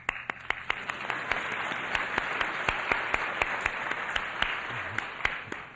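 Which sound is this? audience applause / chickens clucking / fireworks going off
audience applause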